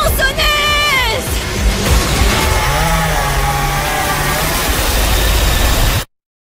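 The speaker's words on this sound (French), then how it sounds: "La tronçonneuse!" A chainsaw revs loudly through a film trailer, its buzzing engine rising and falling over dense music and effects, with voices speaking over parts of it before it cuts off abruptly.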